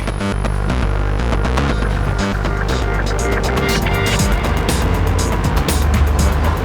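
A car is started and driven away, its engine droning loud and steady throughout with throbbing low rumble and no talk over it.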